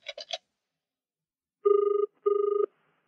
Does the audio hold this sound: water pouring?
no